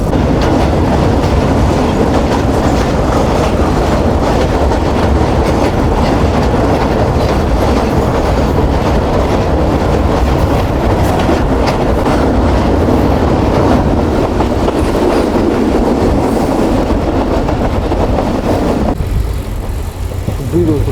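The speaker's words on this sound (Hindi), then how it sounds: "तो अब ट्रेन हमारी आगे बढ़ रही है दरिया सतलज के ऊपर बने हुए एम्प्रेस ब्रिज की तरफ" Millat Express train rolling along the rails toward the Empress Bridge over the Sutlej River in Pakistan, a loud, steady, close rumble with a continuous clickety-clack of wheels that fades slightly near the end.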